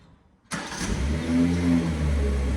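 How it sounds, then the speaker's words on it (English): A BMW 540i xDrive M Sport fires up after a short quiet pause, the engine catching abruptly and settling into a steady, close idle with a low rumble. "We can then start the engine."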